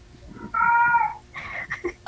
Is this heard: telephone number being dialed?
no